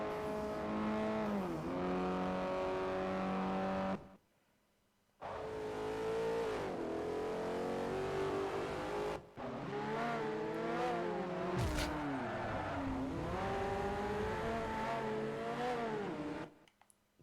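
Race cars in Forza Motorsport 4, including a Corvette, a Viper and a Lotus Exige, roar close by with engines revving hard, rising through the gears and dipping between shifts, broken by two brief gaps of near silence.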